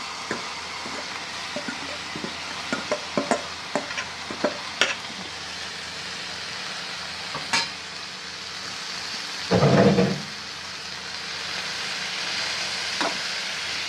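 Sprouted horse gram sizzles in a pan of fried spices while a utensil stirs, giving scattered scraping clicks over a steady hiss and one brief louder clatter near the end.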